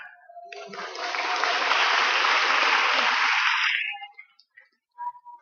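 Audience applause at a technopreneurship lecture swells into a dense, steady roar of clapping for about three seconds, then fades away, leaving brief scattered sounds at the end.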